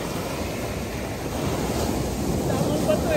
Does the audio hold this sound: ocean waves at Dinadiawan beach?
yes